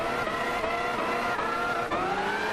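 Race car engine in Gran Turismo 6 driving gameplay, a loud continuous revving drone with shifting pitch and brief dips at gear changes, steady and close throughout with no talk.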